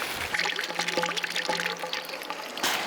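Water pours and splashes steadily from a plant or vessel during food gathering in the Amazon rainforest, a close, continuous trickling stream with small gurgles and drips.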